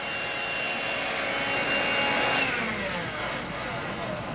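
A Eureka 96H stick vacuum runs on sand-dusted carpet, its steady whirring motor drone rising slightly as it sweeps back and forth, close and loud.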